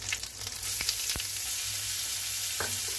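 Whole spices and chopped onion frying in a pan for chicken kosha mangsho, a loud, steady sizzle after a few clinks at the start, close and without talk.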